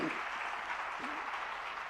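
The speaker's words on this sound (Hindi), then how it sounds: "आपकी तालियां भी उस जोरदारी से बजनी चाहिए" Audience applause at a Jain religious discourse gathering, a continuous, even roar of many hands clapping at moderate volume, with a faint voice briefly audible underneath.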